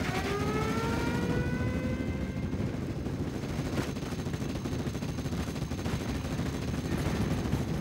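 Gunfire in the World War II strategy game Steel Division Normandy 44, dense continuous bursts of shots and rattling fire layered over rumbling battle noise, with descending whistling tones early on.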